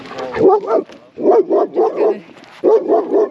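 A reactive German Shepherd barks in loud, close bursts, several sharp woofs in quick groups separated by brief pauses, harsh and agitated with no talk over them.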